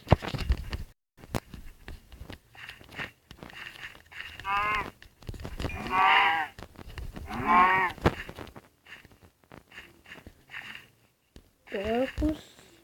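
Farm cows in a video game moo several times, short drawn-out calls spaced a second or two apart, mixed with light footsteps and other game noises.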